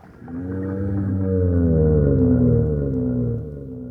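Low, drawn-out humpback whale calls with sliding, wavering moans, loud and continuous with no other sounds.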